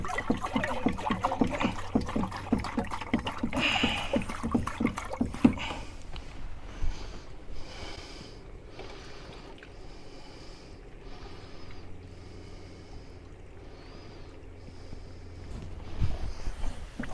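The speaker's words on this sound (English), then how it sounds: "and then we'll add the rest of the water" Water is poured into a pan of corned beef hash being cooked in a campervan, a trickling splash for the first few seconds before settling into quieter bubbling and clinks.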